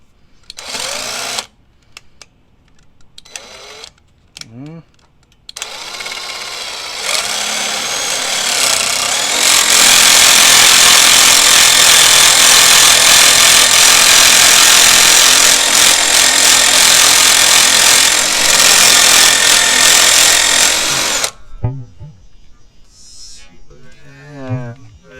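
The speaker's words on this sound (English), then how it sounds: "We're going to shoot a self-tapper in there." A power drill drives a self-tapping screw into a 1965 Chevrolet Corvair, spinning up into a steady, loud whine that holds for roughly fifteen seconds, with short bursts and handling clatter before and after.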